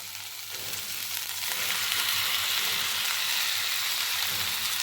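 Spice paste sizzles steadily in a pan with cauliflower and potato pieces, a dense, close frying hiss that swells a little louder partway through and holds.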